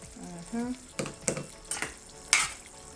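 Ackee and corned pork with ketchup simmers and sizzles in a pan, broken by a few distinct scrapes and knocks of a spoon stirring, with a brief faint voice at the start.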